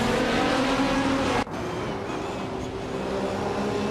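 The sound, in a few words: 2004 Ferrari 550 GTS race cars at Sonoma, racing video game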